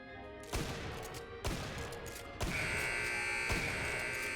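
Gunfire in the Killing Floor 2 shooting gallery video game, with four sharp shots spaced about a second apart over a steady electronic hum, no talking.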